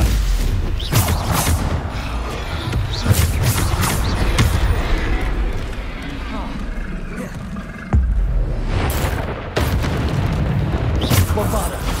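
Repeated Bombarda spell explosions in Hogwarts Legacy land as loud, close booms and rumbling crashes at irregular intervals, with a voice talking over the battle.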